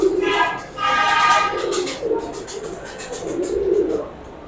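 Domestic breeder pigeons, including a seven-coloured fancy pigeon, coo in repeated low throaty rolling phrases, loud and close, with faint background chatter from a loft or market setting.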